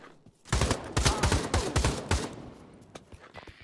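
Rapid bursts of automatic gunfire from the VR shooter game Pavlov, loud and close, a clustered volley of several shots over about two seconds, then fading to a quieter tail.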